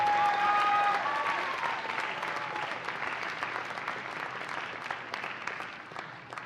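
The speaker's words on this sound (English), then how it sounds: "A big round of applause for Kacho." An audience at a university awards ceremony applauds with steady, dense clapping that starts strong and slowly fades over several seconds, with faint tonal sounds at the start.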